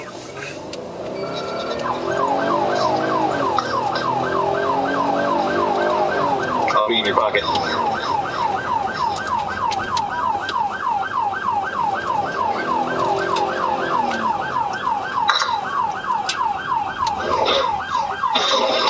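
A police car siren wails and then switches to a rapid, steady yelp that repeats for most of the stretch, loud and close, with road noise underneath and a brief spoken phrase.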